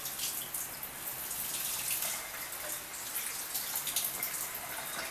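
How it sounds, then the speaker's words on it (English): Water runs from a kitchen tap while hands are washed, a fairly faint, continuous splashing hiss with small fluctuations throughout and no voices. "I have to wash my hands"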